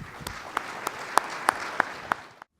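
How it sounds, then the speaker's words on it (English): A small audience applauds contestants at a Kentucky Farm Bureau discussion meet final, a brief patch of scattered clapping with several sharp individual claps standing out before it stops abruptly. "Let's give them a round of applause."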